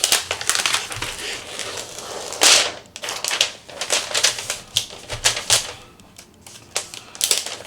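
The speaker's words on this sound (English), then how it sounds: "so let's unwrap the tablet here." Plastic wrap and packaging on an Asus ROG Flow Z13 gaming tablet being torn and crinkled in loud, close bursts of crackling and rustling.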